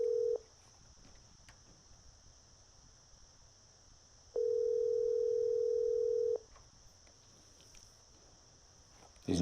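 A telephone line rings while calling someone: a steady tone sounds briefly, then again for about two seconds after a long quiet gap, clear and alone over faint hiss.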